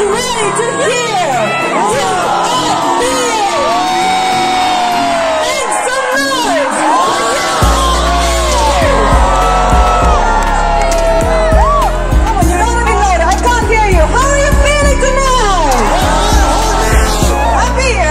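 A concert crowd at the Hornbill festival stage in Nagaland cheers and whoops loudly and continuously, shouts rising over amplified stage sound with a deep bass beat entering partway through.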